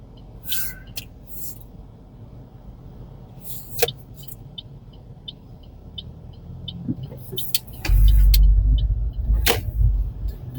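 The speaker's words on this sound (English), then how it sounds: "there's a big truck coming, so I'll let him go first" Seen from inside a rideshare car in Honolulu, Oahu, Hawaii, a big truck passes close by with a loud low rumble that swells near the end, over quieter engine noise and scattered clicks.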